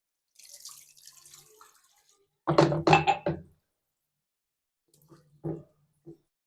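Water is poured into marinated beef for a Jamalpur-style mezban dish, a short splashing gush followed by a few small drips and soft clunks, alone and close.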